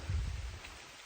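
Rain pattering on a camping tent and tarp, a short soft burst of low thumping drops that fades into a faint steady hiss.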